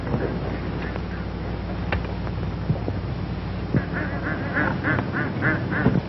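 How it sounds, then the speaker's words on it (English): Ducks at a golf course quack in a quick run of calls during the second half, over a hissy, band-limited old-film background with faint voices. "Those ducks are throwing me off."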